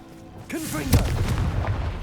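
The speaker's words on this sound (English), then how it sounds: "Confringo." Confringo blast spell from Hogwarts Legacy going off as a single booming explosion with a sharp onset, followed by a rumbling tail, with voice-like tones sounding just before it.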